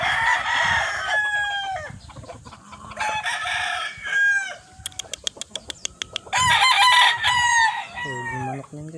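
A Sweater White Leg gamefowl rooster crows close by, with clucking, sharp rhythmic clicks and more crowing calls in bursts across the clip.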